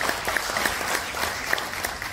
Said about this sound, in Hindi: इनके लिए तालियों में कंजूसी ना करें, तालियां भरतक बजती रहनी चाहिए